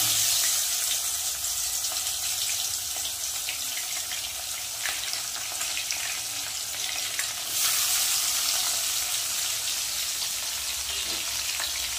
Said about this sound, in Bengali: এই তেলের মধ্যেই দিয়ে দেব পেঁয়াজ কুচি।